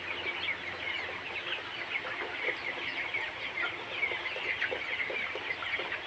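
Thirty-six-day-old color bird chickens cluck and cheep softly and continuously while being weighed on a scale, a dense, faint chorus of small peeps with no voices over it.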